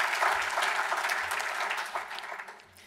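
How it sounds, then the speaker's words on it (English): Audience applause at an evening memorial gathering in Washington, D.C., a steady patter of many hands that fades toward the end, fairly distant and moderately loud. "So let's give them a nice round of applause"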